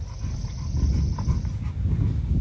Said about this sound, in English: You may hear my sister's dog, my brother-in-law's dog in the background snorting.